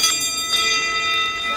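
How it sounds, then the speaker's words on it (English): A bell rings at the start of a backyard ultra world championship race, a bright sustained metallic tone that carries through the brief moment, loud and steady. "75 times we want to ring that bell for all the people that are here"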